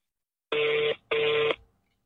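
Two steady telephone keypad tones sound as a call is placed, each about half a second long with a short gap between, clean and alone against silence.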